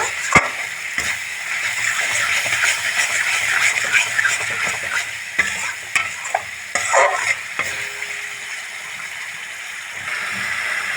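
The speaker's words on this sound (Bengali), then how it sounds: "ভালো করে আমি কষিয়ে নেবো সব মশলা" Ground spices with salt, sugar, turmeric and chili powder sauté in a pan for ghugni, crackling and sizzling steadily up close as a spatula stirs and scrapes repeatedly, with no talking.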